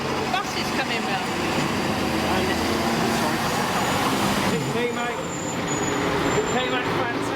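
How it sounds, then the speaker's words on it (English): Bus driving round through Watchet on a busy summer day, a steady near engine and road rumble with hissing air-brake traces, under continuous outdoor crowd chatter and other traffic. "Dave, the bus is coming round."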